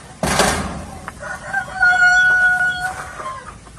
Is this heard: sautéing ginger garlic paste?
no